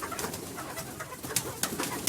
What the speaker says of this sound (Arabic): اكتر حاجه بحبها في حياتي الحمام